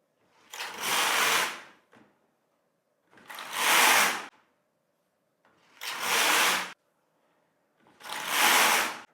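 A Singer Solo hand knitting machine knits rows on waste yarn, its carriage sweeping across in four separate rasping, whooshing passes about a second long each, with brief quiet pauses between them.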